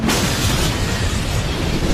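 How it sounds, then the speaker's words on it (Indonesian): A bomb explodes in the Korean action film Villainess, a loud, dense roar of blast noise that fills the moment without let-up. "terlihat sebuah ledakan bom"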